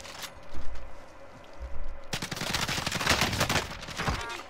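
Gunfire in the video game Call of Duty: Modern Warfare: a few scattered muffled shots, then a sudden dense burst of rapid automatic fire that roars on continuously to the end.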